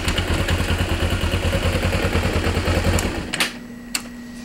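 A 2012 Kawasaki Ninja EX250 motorcycle engine runs close by with a rapid, rhythmic mechanical clatter, then drops off abruptly toward a quieter idle hum broken by a couple of sharp clicks.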